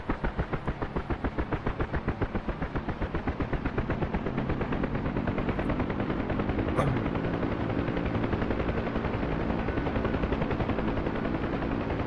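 A helicopter in a video game spools up, its rotor chop a loud, continuous rapid pulse that grows denser and stronger as the throttle comes up.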